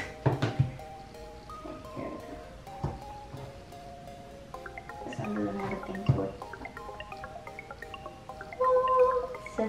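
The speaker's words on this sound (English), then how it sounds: "Box ASMR." Handling of an iPhone 13 box during unboxing, with soft cardboard rubs, taps and light scrapes scattered close-up and quiet, plus faint tonal background sounds and no talking.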